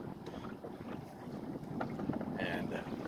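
Wind rushes across a microphone aboard a sailboat, a constant blustery roar with water sloshing against the hull, and a voice faintly present underneath.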